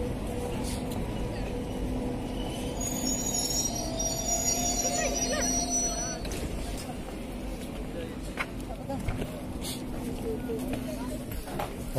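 A local passenger train, the Tata–Barbil local at Adityapur railway station, rolls in with rumbling wheels and a drawn-out metallic squeal, amid crowd chatter and voices nearby.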